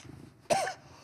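One short, harsh cough burst from a person with whooping cough, sharp and close, standing alone against a quiet room.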